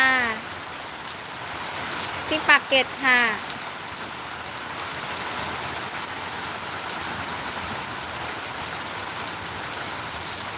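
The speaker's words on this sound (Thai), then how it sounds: "ฝนตกที่นนทบุรีนะคะปากเกร็ดค่ะ" Steady rain falls in Pak Kret, Nonthaburi, a constant hiss throughout, with a woman's brief speech near the start standing out over the downpour.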